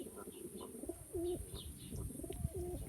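Young Arab pigeon chicks coo softly in a low, rolling, repeated pattern, with a few faint chirps nearby and a steady background hum.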